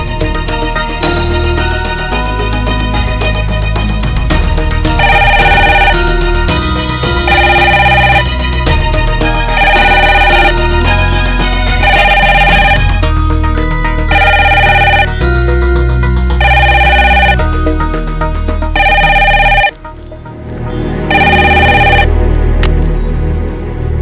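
An electronic phone ringtone repeats in regular pairs of tones over a music bed, ringing on and on, the call going unanswered.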